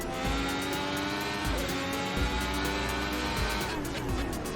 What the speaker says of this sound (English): Brake hard, go around the hairpin.